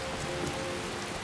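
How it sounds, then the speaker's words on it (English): Even, continuous rainfall patters across the landscape in Skyrim, a soft hiss of drops with faint distant thunder beneath and no one speaking. "it started raining as I came out"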